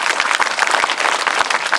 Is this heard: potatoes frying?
no